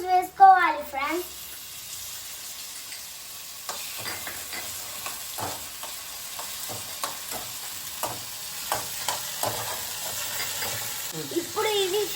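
Chopped onions and tomatoes fry gently in a pan, giving a soft, continuous sizzle dotted with light spatula clicks and scrapes, while a voice speaks briefly at the start and again at the end.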